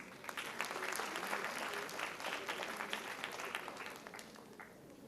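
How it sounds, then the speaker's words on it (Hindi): An audience applauds a school students' musical medley at a patriotic tricolour programme, a dense, steady wash of many hands clapping at moderate distance for the whole stretch, slowly tapering near the end. "तालियों से"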